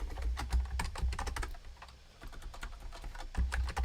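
Rapid clattering keystrokes on a computer keyboard during a live programming session, loud and close, with a brief pause midway before the typing resumes.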